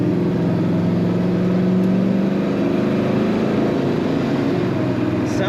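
A 1968 Chevrolet El Camino Custom with an automatic transmission runs steadily, its mid-pitched engine drone holding loud and close and rising slightly as it accelerates, with no talk over it.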